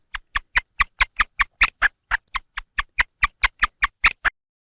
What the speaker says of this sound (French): C'était le cri d'offrande alimentaire.